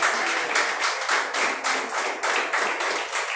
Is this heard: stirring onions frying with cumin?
no